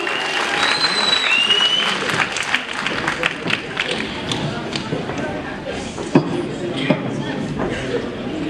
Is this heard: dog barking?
no